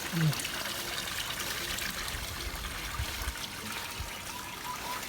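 Water trickles steadily from a small waterfall in a backyard aquaponic system, a continuous faint splashing and bubbling that runs the whole time with a few low thumps, and no talking.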